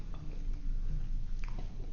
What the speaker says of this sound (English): Get a microphone inside my mouth while I'm chewing.